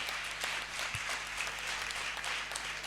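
A church congregation applauds loudly and continuously for Jesus, a dense, even patter of many hands clapping with a low hum underneath.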